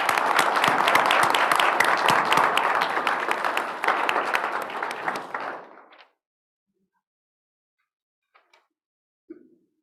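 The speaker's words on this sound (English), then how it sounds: "Give him a round of applause." An audience at a school board meeting gives a dense round of applause, loud and close, lasting about six seconds before cutting off to near silence with a few faint knocks afterward.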